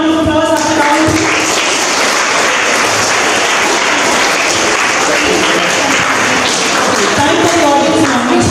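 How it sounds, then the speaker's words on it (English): A school crowd at an English Day celebration claps in a sustained round of applause after a quiz round, loud and continuous throughout, with a few voices surfacing near the start and end. "can you have a round of applause after round 3?"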